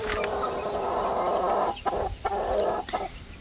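A rooster in a backyard chicken coop clucks and mutters in short bursts, fairly close and moderately loud, against a steady background hum with no talking.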